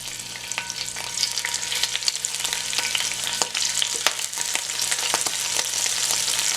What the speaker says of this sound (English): the first thing I'm gonna cook is my shrimp